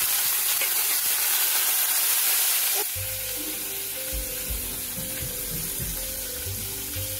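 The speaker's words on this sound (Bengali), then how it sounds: "এবার এই যে ভাজা গোটা সর্ষে আর লঙ্কার মধ্যে এই সেদ্ধ করে রাখা আমগুলোকে দিয়ে দেব।" Whole black mustard seeds and chilli crackle in a loud, bright sizzle. Boiled mango pieces then drop into the pan, and the hiss shifts to a lower, softer bubbling fry with occasional stirring, and no one speaks.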